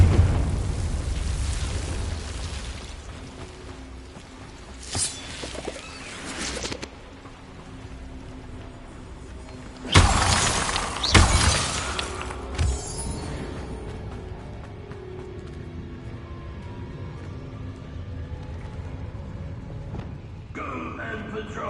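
The Confringo fire spell bursting in Hogwarts Legacy: several loud booming explosions with rumbling tails, separated by quieter stretches of game ambience and faint background noise.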